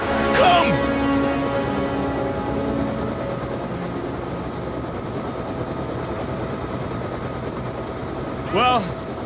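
A helicopter in the Black Ops 2 video game drones steadily with a buzzing rotor throughout, loud and continuous beneath game effects and characters' voices.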